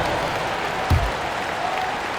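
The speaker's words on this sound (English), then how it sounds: "Give yourself a round of applause." A basketball crowd at a Jazz game applauds steadily, a broad wash of clapping that continues throughout with a brief thump partway through.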